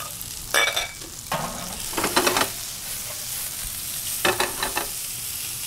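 Mushrooms frying with shallots and sliced garlic in a pan, a steady sizzle broken by several scraping stirs in short clusters, close and clear with no talking.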